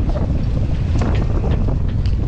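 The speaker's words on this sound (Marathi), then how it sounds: "पाऊस जोरात आला आता आणि वारा परत वाढला" Strong storm wind roars continuously around a boat off Mumbai, with heavy rain beating down, loud and close, as a steady dense rushing with faint spattering accents and no talking.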